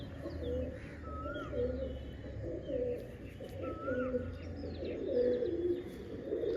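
A pair of Kalodana pigeons coo in low repeated rolls nearby, with higher bird chirps and whistles scattered over a steady background hum.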